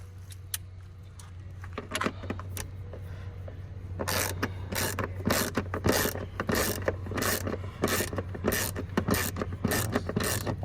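Metallic clicking and ratcheting of a tool working T30 Torx screws loose on the front bumper of a BMW 650i with an N63 engine, a rapid run of close, sharp clicks over a steady low hum.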